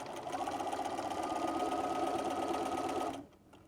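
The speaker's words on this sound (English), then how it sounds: "Go up to the pin, remove the pin, and keep sewing." A sewing machine stitching T-shirt quilt rows runs in a steady, fast, continuous whir for about three seconds, close and fairly quiet, then stops abruptly.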